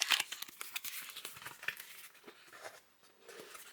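Close, quiet rustling, tearing and scratchy snips come from the effort of opening a boxed set of Futera Unique World Football 2022/23 trading cards, in a busy flurry that eases off toward the end, with no talking.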